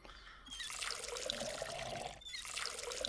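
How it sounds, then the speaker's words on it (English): Water poured onto plants in the video game Schedule 1, a steady trickling, splashing stream that runs almost the whole time with a brief break partway through, close and fairly loud with no talking. "Fill up the water. Let's water these plants up."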